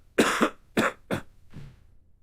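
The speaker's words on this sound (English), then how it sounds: "Doctor, I started the medicine, but now I have this cough." Dry cough from a person reacting to blood pressure medicine: three sharp, close coughs in quick succession, followed by a softer fourth.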